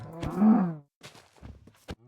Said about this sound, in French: Oh, des vaches!